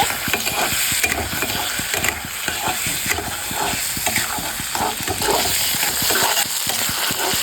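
Turnip mash is stirred and fried in a pan, giving a steady rasping scrape of the spoon over continuous sizzle and steam hiss, with no voices over it.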